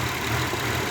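A Mitsubishi Pajero 6G75 V6 engine idles steadily with a leaking intake manifold gasket, giving a continuous close, even hum with no voices.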